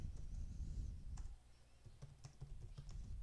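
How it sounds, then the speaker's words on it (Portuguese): Keys clacking as C++ code is typed on a computer keyboard, an irregular run of close, sharp taps over a low room hum, with a brief pause partway through. "eu vou digitar include iostream using namespace std."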